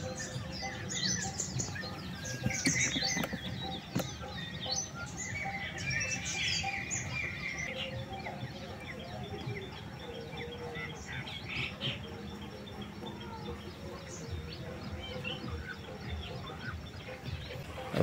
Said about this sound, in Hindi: इस पर चिड़ियाँ खेल रहे फुदुक रही हैं